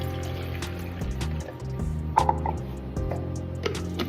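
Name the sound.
pouring water into a sports bottle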